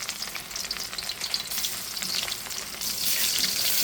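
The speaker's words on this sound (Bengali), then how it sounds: "এখন আমি কড়াইতে তেল দিয়ে মাছটা ভেজে নিচ্ছি।" Pieces of tilapia fish fry in hot oil in a wok, a loud, steady crackling sizzle that swells fuller and denser toward the end, with no voices.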